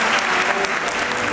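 A concert crowd in Pokhara applauds to welcome a singer onto the stage, a steady, loud wash of clapping filling the whole short moment.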